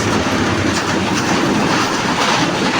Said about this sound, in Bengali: ট্রেনের অপেক্ষা করি।